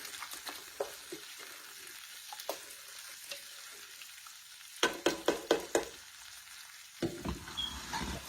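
Beef and carrots sizzle and fry in a pot while being stirred, with a soft continuous crackle broken by several distinct scraping and clattering stirs.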